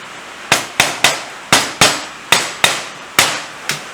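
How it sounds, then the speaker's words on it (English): A small hammer taps on parts of a Triumph 500 motorcycle being restored, about nine loud, sharp metallic strikes in an uneven rhythm, each ringing briefly before the next, close up with no talk. "where's my little hammer? There it is."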